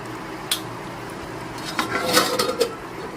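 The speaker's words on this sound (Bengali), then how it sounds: "এখন একটা ঢাকনা দিয়ে দু মিনিটের জন্য আমি ঢেকে দিচ্ছি" A lid set over a pan of masala bhindi (spiced okra), with a soft metallic clink, then rattling and scraping as the lid settles, close and moderately loud over a faint sizzle.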